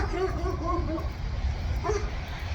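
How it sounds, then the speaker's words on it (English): Dogs barking at a home carport build site, a few short yips and barks in the middle distance under someone talking. "and dogs never shut up."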